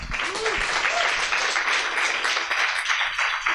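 Audience applause for presenters at a panel event on climate engineering: steady, fairly loud clapping from a crowd throughout, with a faint voice briefly audible early on.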